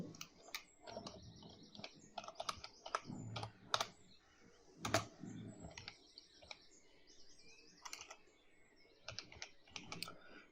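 Quiet keystrokes on a computer keyboard come in short irregular bursts with pauses, close and clicky, while faint bird chirps sound in the background.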